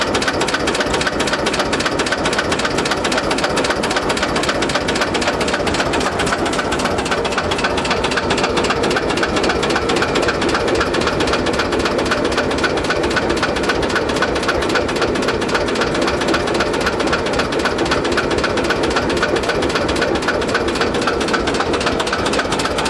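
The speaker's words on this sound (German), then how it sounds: "Das Erfolgsmodell vom Beginn der 50er Jahre, der F1L 514, tönt markig über den Platz" A vintage Deutz F1L 514 single-cylinder tractor engine from the early 1950s, running steadily at a tractor meet, a loud, close, rapid even knocking thump that continues without a break, with no voices.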